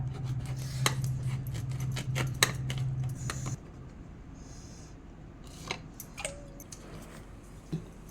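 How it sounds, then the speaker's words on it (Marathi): A washed raw green mango is sliced on a vili, a traditional curved kitchen blade, for a Maharashtrian mango curry. Sharp, close clicks and chops come in an irregular run over a low hum, then thin out to a few quieter taps, with no talking. "आता विळीने कापून घेऊ हिला."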